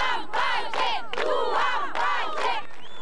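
A crowd at a street demonstration in Tirana shouts and chants together in repeated bursts of massed voices, close and lively.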